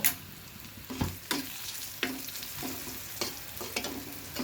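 Food frying in hot oil in a pan, a soft steady sizzle broken by a series of louder stirring scrapes and clinks at irregular intervals, close up and without talk.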